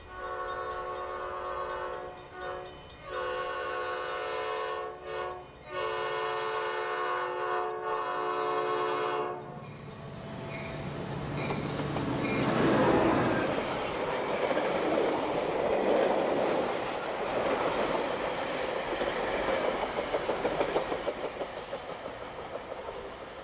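A Metra Heritage Corridor commuter train approaches, first sounding a long, loud horn in repeated blasts, then rumbling past close by with rising wheel and rail clatter that builds and holds to the end.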